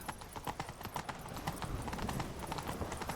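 In The Witcher 3: Wild Hunt, rapid hoofbeats of a galloping horse pound steadily throughout, dense and fairly loud, with a faint whinny-like tone mixed in.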